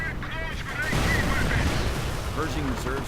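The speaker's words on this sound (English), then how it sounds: "a sticky bomb goes off on the Panzer IV with no armored skirts" Gunfire and explosions in a WWII strategy video game, with a sticky bomb going off on a Panzer IV tank: a dense, rumbling burst of blasts and shots, with short whistling effects over the top.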